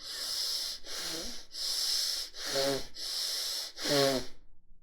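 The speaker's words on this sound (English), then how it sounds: "It's a longer breath, little hissing sound." Slow, deep belly breathing during a guided meditation, a series of long hissing breaths with short pauses between them, close and quiet, with faint voiced exhales near the end.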